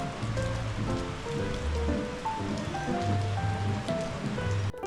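Rain falls steadily in Cajamarca, Peru, heard from shelter in a market stall as a constant wash of drops with tonal tinkling and dripping notes on top, no talk.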